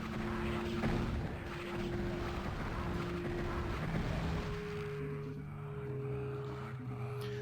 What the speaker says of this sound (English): that noise that I just heard there tells me that the final bosses of this episode have woken up